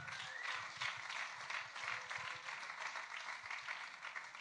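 Audience applause fills a club venue during a science slam evening, a steady dense wash of clapping that holds at an even level throughout.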